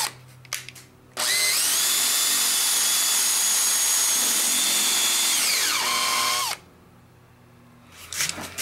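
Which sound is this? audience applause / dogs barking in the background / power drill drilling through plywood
power drill drilling through plywood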